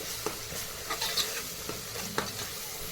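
Ginger garlic paste and turmeric being stirred and frying in a pan, a continuous close sizzle with soft scraping strokes of the spoon, alone without talk.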